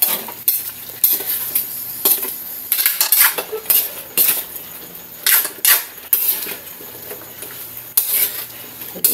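Okra and green chillies being stirred in a cooking pot: a metal spoon clinks and scrapes against the pot in irregular bursts over a soft sizzle, close and fairly loud, with no talking.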